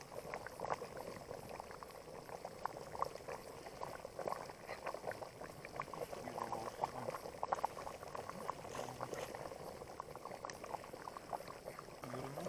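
Bograch stew simmers in a pot over a fire beside the river, giving a quiet, steady bubbling and gurgling that continues evenly throughout, faint and with no talking.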